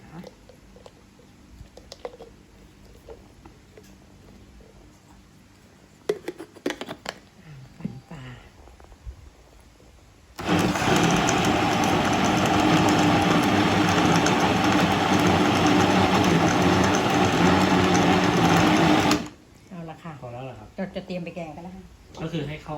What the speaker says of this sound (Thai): ก็จะมาปั่นปลานะคะ